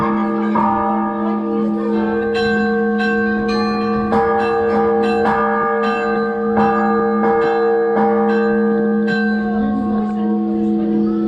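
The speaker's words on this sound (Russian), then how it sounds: "Все, кто был на улице, теперь все желают позвонить в колокол." Visitors ring a church bell at an outdoor children's day event, sounding about a dozen clear, ringing strikes at an uneven pace that overlap in a sustained metallic hum, loud and near, with faint crowd murmur beneath.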